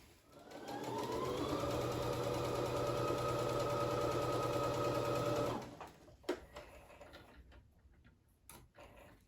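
A sewing machine stitching the hem of a pillow cover runs steadily for about five seconds with a loud, even mechanical whir, then stops, followed by light handling clicks and rustles.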